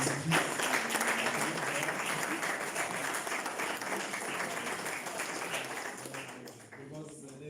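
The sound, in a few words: mentors clapping for themselves at end-of-year function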